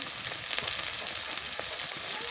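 Garlic paste, onion paste and a little turmeric sizzling in hot oil, a dense, steady close-up hiss with faint stirring crackles, no voices.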